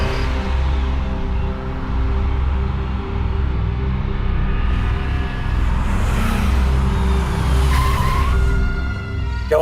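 A hired car brakes hard to a stop, its tires squealing and skidding over a steady engine rumble for several seconds, loud and close, with no voices.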